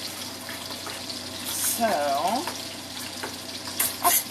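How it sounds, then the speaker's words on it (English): Tap water runs briefly into a glass jar being rinsed, a short splashing gush amid kitchen background noise, with a person speaking briefly. "Rinse my jar a little bit."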